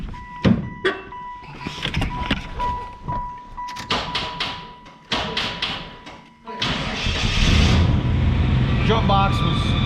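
A 1996 Buick Roadmaster estate wagon is started: clunks, clicks and a chiming tone come first, then the engine cranks and catches into a steady, loud idle that carries to the end.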